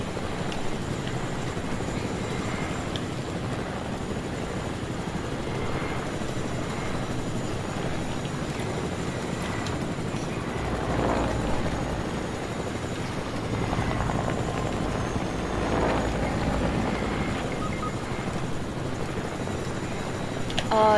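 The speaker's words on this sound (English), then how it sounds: "I'm coming over to you in my chopper." A helicopter flies in a battle royale video game, its steady rotor drone running unbroken at fairly loud level for the whole stretch.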